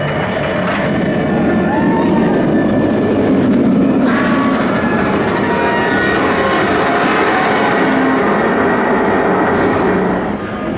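The B&M Wing Coaster Swarm at Thorpe Park runs as a loud, steady rumbling roar with rattling track noise, sustained and close throughout.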